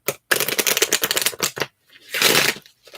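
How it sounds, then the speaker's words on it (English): A deck of cards being shuffled in a quiet room for ASMR, with quick crisp riffling bursts, a short pause, then a softer sustained shuffle and a few final taps. "as I shuffle the cards, such that we will be able to address them very shortly."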